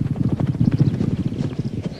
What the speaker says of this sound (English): Out on the gallops, the Queen has a chance to see her horses working